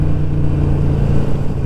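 A Harley-Davidson Sportster Roadster XL1200CX rumbles along on a ride, a loud, steady low engine drone with a throaty tone and no talking.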